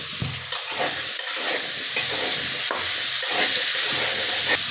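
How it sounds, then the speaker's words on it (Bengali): Flat beans and spring onion frying in oil in a kadai; a constant loud sizzle with repeated spatula scrapes and stirring, close and without speech. "এই তেলেই আমি সিমটা ভাজব সিমের সাথে পেঁয়াজ কলিটাও দিয়ে দেব"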